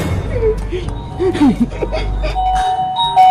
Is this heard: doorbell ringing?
yes